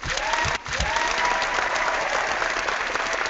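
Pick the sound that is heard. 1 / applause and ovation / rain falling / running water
applause and ovation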